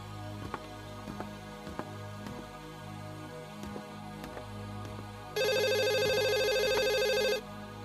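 A telephone rings in one steady burst of about two seconds, loud and close, breaking through a quiet room tone that carries soft scattered knocks and ticks.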